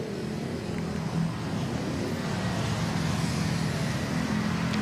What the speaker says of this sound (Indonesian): Tepat di belakang saya ini jumlah kendaraan roda 2 maupun roda 4 sudah mulai ramai melintasi jalur Kalimalang